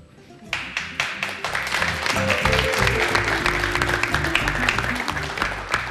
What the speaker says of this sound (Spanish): Continuamos nuestra peña entre amigos con unos tímidos aplausos.